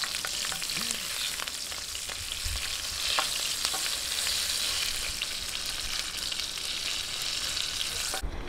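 Bell pepper frying in hot oil for a pork pochero, giving a steady, dense sizzle and crackle throughout, with a few faint utensil taps near the start.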